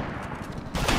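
Rapid gunfire crackles in the SOCOM 4 shooter as a dense burst of overlapping automatic shots, loud and close, swelling heavier toward the end of the short stretch.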